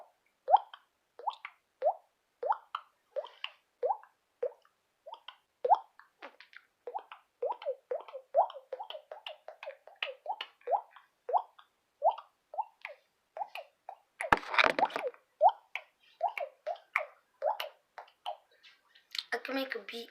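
A water-drop sound effect made by hand, a string of close, hollow plops and clicks tapped out in a steady, beat-like rhythm with brief pauses, plus a louder rustle partway through.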